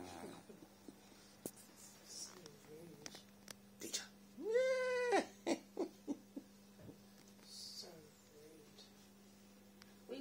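A cat meows loudly once in a long, rising-and-falling call near the middle, with a few shorter mewing sounds after it over a steady low hum, close by in a room with brief human voices.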